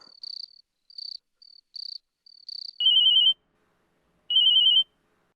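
A phone rings in short electronic trills, first a quick series of brief chirps, then two longer, louder bursts separated by a pause.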